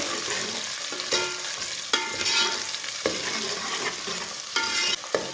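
Steady sizzling of garlic and onion browning in a pan over medium heat, with a spoon scraping and stirring at intervals, close and fairly quiet.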